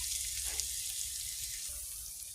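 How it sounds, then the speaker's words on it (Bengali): Garlic paste sizzles and fries in a hot pan during home cooking, a steady bright hiss with a brief stir near the start, moderately quiet and without talk. "রসুন বাটা কষাচ্ছি"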